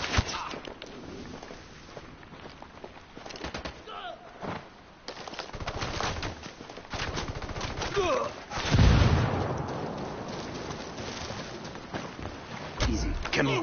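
Scattered gunshots in a video game crack out at irregular intervals, with one heavy blast near the middle, mixed with ambient noise and cooing birds and occasional talking.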